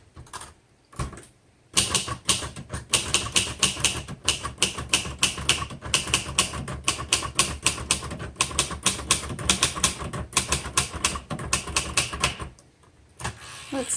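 A 1963 Royal Safari vintage typewriter being typed on steadily, a long run of crisp, close mechanical keystrikes in quick irregular rhythm, with a few short pauses at the start and end.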